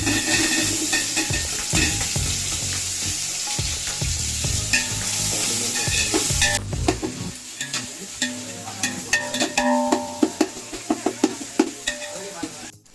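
Spices with native onions sizzle and fry in pure coconut oil as they are stirred, a steady dense sizzle that turns sparser later with sharp scraping and clinking spikes from stirring the pan.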